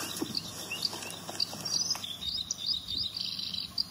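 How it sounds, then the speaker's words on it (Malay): Birds chirp in quick, high tweets, many short calls overlapping steadily at a moderate distance, with no talking. "Betul, ini bunyi burung."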